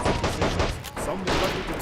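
Bren gun fire rattles in the Men of War video game, several dense bursts of automatic fire overlapping in a loud, busy battle mix.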